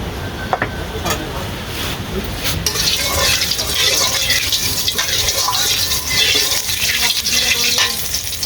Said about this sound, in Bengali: কড়াইতে একটু সামান্য পরিমাণে তেল দিয়ে দিচ্ছি চিংড়ি মাছটা কষানোর জন্য